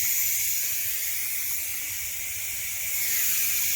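Close, steady hissing from a Ninja Foodi pressure cooker/air fryer releasing steam pressure, a continuous loud jet that dips slightly midway and swells again, no talking.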